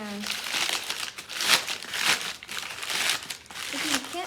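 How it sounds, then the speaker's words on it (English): Brown paper bag being handled and crinkled, a series of close, crisp rustling bursts with short pauses, with a voice briefly heard at the start and end. "So you'll get a brown paper bag like this"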